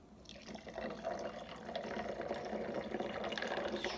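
French press coffee pours steadily over ice in a glass, a continuous close splashing trickle of liquid that builds slightly after the first half second and carries on throughout.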